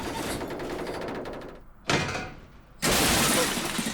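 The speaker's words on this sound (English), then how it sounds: "That's one way to open a door." A door forced open in Danganronpa: Ultra Despair Girls, heard as two loud sudden bursts with a crash-like, splintering quality, the second longer and sustained, over a low rumble.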